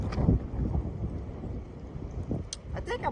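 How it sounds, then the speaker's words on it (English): Strong gusts of wind buffet the microphone outdoors on a fishing trip, a loud, low rumbling roar that surges and fades in waves. "Oh goodness, wind's coming back."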